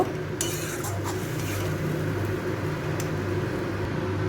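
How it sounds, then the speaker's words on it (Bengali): Kudri masala being stirred in a pan with water added after rinsing out a yogurt bowl, a steady scraping and clinking of spoon on metal with a few sharper knocks, close and continuous, no talking. "এটা আমি ভালো করে একটু মিশিয়ে নেব।"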